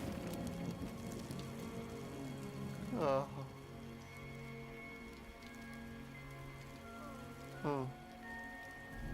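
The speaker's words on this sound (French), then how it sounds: "La pluie, il manquait plus que ça." Rain patters steadily in the background while a voice gives two brief exclamations.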